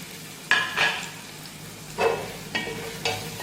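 Chopped small shallots tipped into a pan to sauté for Malabar-style beef curry, giving a few separate bursts of sizzling and stirring scrapes with quiet gaps between, close and moderately soft.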